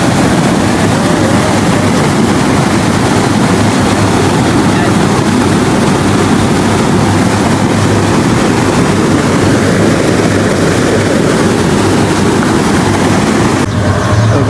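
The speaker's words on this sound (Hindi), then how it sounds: "ये बड़े बड़े मोटर लगे हुए हैं जो वो अपना पानी निकाल रहे हैं" Large motor pumps discharging water into a drain, a loud, unbroken roaring rush of water and engine hum that stays steady the whole time, with faint voices beneath.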